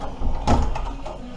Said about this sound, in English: I'll get the door open.